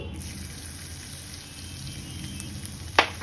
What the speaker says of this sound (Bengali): এবার পনির ভাজার যে তেলটা ছিল সেই তেলের মধ্যেই আমি একে একে দিয়ে দেব রসুন কুচি